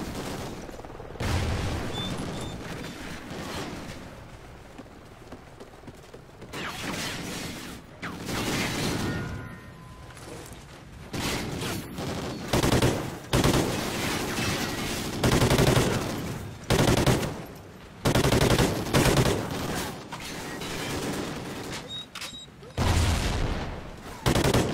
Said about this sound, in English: In a gunfight right now.